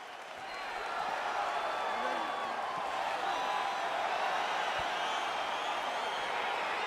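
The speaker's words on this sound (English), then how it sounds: "crowd getting excited as this fight gets underway" An arena crowd in the video game UFC 4 fight simulation, a steady roar of cheering and murmur that swells at the start and holds at a moderate, slightly distant level.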